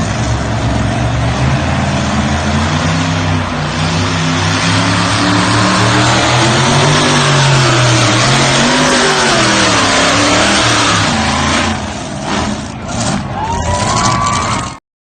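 Engines of a truck-and-tractor pulling sled roar at full throttle, a loud sustained droning blast that surges and dips in pitch, heard at a live pulling event with no talk over it.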